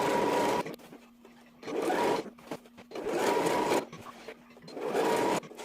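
A sewing machine runs in three loud, close bursts, stitching a wax-print fabric skirt with an elastic waistband. Brief pauses fall between bursts as the fabric is readjusted.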